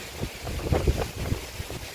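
Strong cold-season wind gusts across an outdoor rural spot, a steady rough rumble buffeting the microphone with several louder surges, loud and close with no talk.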